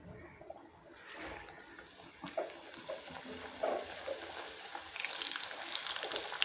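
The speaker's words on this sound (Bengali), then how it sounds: "এখন আমি ভেজে নেব একটা একটা করে বেলে।" Rolled bhatura dough is deep-fried in hot oil for chole bhature, giving a steady, close hiss that builds and brightens, with bubbling crackle rising toward the end.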